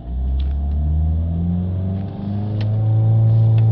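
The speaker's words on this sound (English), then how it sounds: "So let's give it a rev" A car engine revving up toward 3000 RPM while stationary during a diesel particulate filter check, a loud steady mechanical hum rising in pitch and holding high, close and alone.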